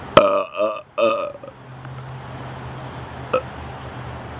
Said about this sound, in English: Belchage is pretty good on this.